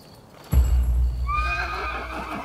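A horse called by a horse flute in the video game Rise of the Ronin neighs loudly and close, a rising then falling whinny over a low rumbling thud of hooves that starts abruptly and carries on for about two seconds.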